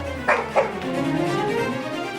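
A voice imitates a dog barking inside a school: two sharp, close barks in quick succession, followed by a drawn-out whining tail.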